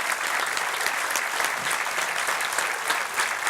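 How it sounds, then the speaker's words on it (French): An audience at a squash club's festive gathering applauds steadily and loudly throughout, a dense wash of many hands clapping with no gaps. "On peut les applaudir, ils sont avec nous"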